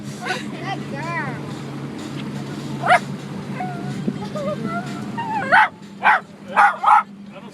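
A dog barks in a few short, loud yips near the end, with softer whimpering earlier, over a steady background hum and scattered outdoor bird calls.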